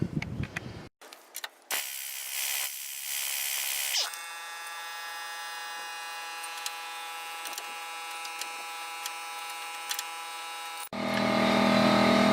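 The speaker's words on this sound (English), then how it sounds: "what I'm going to do is use an impact on there" Impact wrench removing a rusted stabilizer link bolt on a Chevrolet Trailblazer: a few short bursts, then a loud, steady mechanical buzz for about nine seconds that cuts off abruptly.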